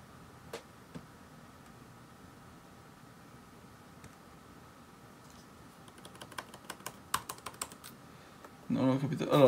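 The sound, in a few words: typing on a MacBook Pro 2017 keyboard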